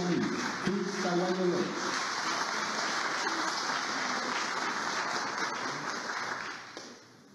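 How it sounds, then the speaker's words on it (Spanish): Applause for company award winners at a Peruvian awards ceremony: a steady, dense wash of clapping from a crowd, fading out near the end, with a brief spoken phrase early on. "el aplauso para la empresa"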